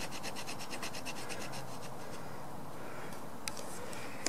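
The spine of a Finnish jääkäripuukko knife scrapes along wood to raise fine shavings, a close, steady rasping of repeated strokes with a couple of sharp clicks near the end.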